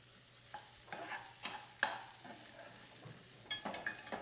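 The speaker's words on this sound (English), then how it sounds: "Now the prawns are cooking, and they look great." Prawns sear in a preheated pan, a quiet steady sizzle broken by scattered scraping and clinking of a utensil against the pan, close and soft, with no one speaking.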